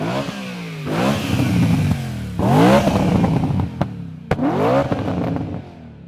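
A BMW E92 M3 fitted with a Magnaflow exhaust revs hard three times in close succession, each rev swelling and falling away, a deep bassy, somewhat muffled roar up close with no talking.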